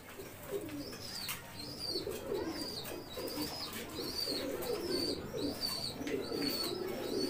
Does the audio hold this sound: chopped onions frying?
no